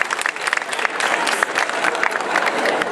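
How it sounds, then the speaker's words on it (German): Audience applause at a comedy show, a steady dense wash of many hands clapping throughout, fairly loud and close, with faint crowd noise underneath and no clear talk. "Applaus, Applaus."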